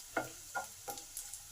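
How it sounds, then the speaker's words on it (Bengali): Chopped garlic and green chilli fry in oil in a pan, giving a quiet, steady sizzle with four or five rhythmic scraping strokes of a spatula, close by and without talk. "এই রসুনটাকেও একটু ভালো করে ভেজে নেব।"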